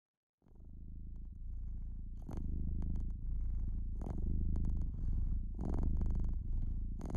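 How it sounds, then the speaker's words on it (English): Steady, close cat purring runs throughout, a low rumbling rhythm of breaths with occasional brief higher crackles, no voices. "There's one that's literally just cats purring."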